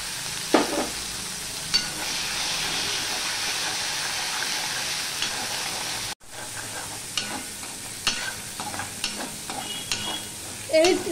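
Ginger and slit green chilies fry in hot oil, with a steady close sizzle and intermittent stirring scrapes in the pan, broken by a brief cut midway.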